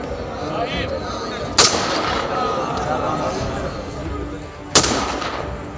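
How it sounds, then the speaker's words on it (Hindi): Two sharp rifle gunshot cracks from a state-honors volley salute, several seconds apart, ring out over a steady murmur of crowd noise and chatter outdoors. "पीछे वाले जवानों ने गोलियां चलाकर प्लेबैक दे दिया"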